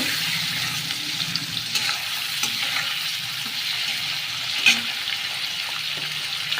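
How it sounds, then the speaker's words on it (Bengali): Shrimp frying in a pan for a Bengali dopeyaji gives a continuous, moderate hiss and sizzle, with faint stirring and one brief sharp clink near the end. "চিংড়ি মাছটা একটু ভেজে নেব মাছটা ভালো করে ভেজে নেব"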